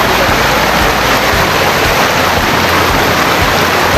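Water rushing steadily over rocks as a river stream is crossed on a trek toward Hulugan Falls, a loud constant broadband wash with no break throughout.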